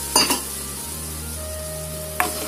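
A spoon scrapes and stirs okra curry in a pan a couple of times over a soft, continuous sizzle of cooking food.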